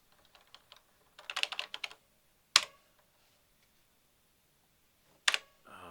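Quick bursts of clicky typing on a computer keyboard, followed by two sharp single key clicks, close up in a quiet room.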